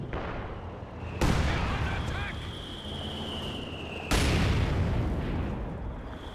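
Heavy mortar shells from a Company of Heroes 2 match strike in two loud, sharp blasts a few seconds apart. Battlefield rumble and scattered distant fire fill the gaps.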